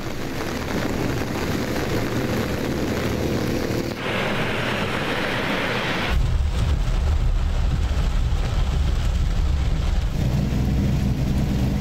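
Steady heavy rain hissing across the street in Karachi during a downpour, a broad continuous wash that thickens into a deep low rumble partway through, like thunder or heavy water runoff, with no voices.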